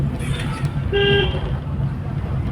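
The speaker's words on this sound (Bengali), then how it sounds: "গাড়ির হরেনটাও বেশ আস্তে আস্তে জোর হয়েছে।" Car horn sounding once in a parking area at a busy railway station, a short tonal toot about half a second long over a constant low rumble of traffic and idling engines.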